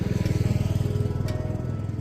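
A hot Hero Splendor Plus 100cc motorcycle idles close by after a rough mountain ride to Tawang, its engine giving a steady, rapid, even thumping.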